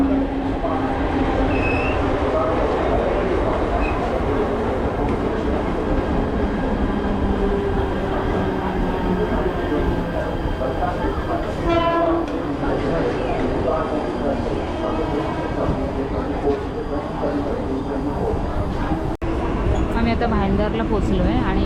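Steady rumble and rattle of a moving Mumbai local train near Nalasopara from inside a carriage, continuous throughout, with faint voices and occasional metallic clatter.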